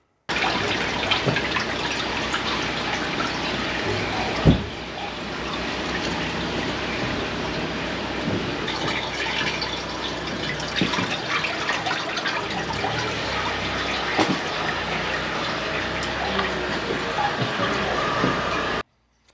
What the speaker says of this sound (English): flush the toilets, and we should see it come through the manhole